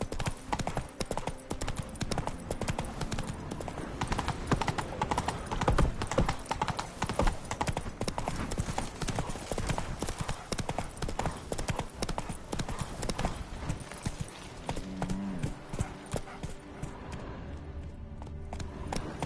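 Roach, a horse in a video game, gallops in a fast, rhythmic clip-clop of hooves that carries on without pause and fades a little toward the end.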